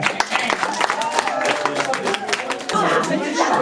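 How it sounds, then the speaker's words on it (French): Classroom audience clapping for a group of third-year students after a slam poetry performance, a dense patter of hands with scattered voices and chatter mixed in. "Ça mérite un nouvel applaudissement."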